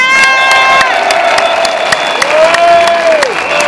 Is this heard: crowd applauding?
yes